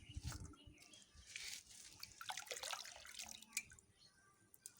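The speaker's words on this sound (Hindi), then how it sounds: "तो इसको गर्म है, थोड़ा पानी डाल देता हूँ।" Water trickles and splashes onto a hot glass bottle that was cut in half, a close, uneven pouring sound with small drips and clatter, no one speaking.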